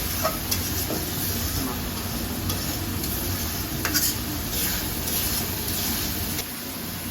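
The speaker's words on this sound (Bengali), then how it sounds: "কাঁচামরিচ তরকারি দিয়ে দিলাম একটু ভালোভাবে কষানো" Prawn curry with green chilies being sautéed and stirred in a pan, giving a steady broadband sizzle with scraping stir sounds throughout, close and continuous, no talking.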